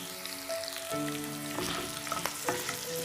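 Garlic cloves fry in a pan for Karnataka-style tamarind rice, a steady close sizzle broken by a few clinks and scrapes of stirring, with no talking.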